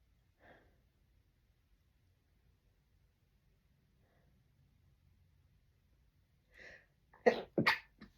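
A single sharp sneeze near the end while crafting with tissue paper, preceded by a couple of soft breaths in an otherwise quiet room.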